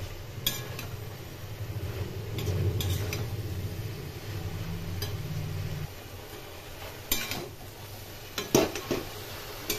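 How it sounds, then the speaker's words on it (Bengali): Green chillies and ground coriander fried on a low flame with pumpkin greens, stirred repeatedly: quiet sizzling under intermittent spoon scrapes and sharp metallic taps against the pan, close and fairly faint. "এখন এগুলো দিয়ে ভালো করে কষিয়ে নেব। লো ফ্লেমে বারবার করে নেড়ে নেড়ে আমি রান্না করে নেব।"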